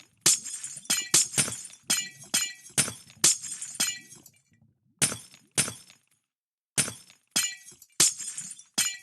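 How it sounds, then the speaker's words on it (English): Glass blocks repeatedly shattering in the Minecraft video game, a rapid run of sharp, bright breaking crashes with brief pauses between bursts, loud and close with no talk. "Loud glass cracking."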